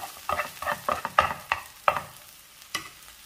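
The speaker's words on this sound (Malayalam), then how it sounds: "ഇനി മുരിങ്ങക്ക ഒരു സൈഡിലേക്കൊന്ന് മാറ്റി വെക്കാം." A spatula stirs and scrapes cooked drumstick pieces, a moringa vegetable, aside in a pan for an egg thoran, with several sharp clanks and scrapes over a faint sizzle, close and without talk.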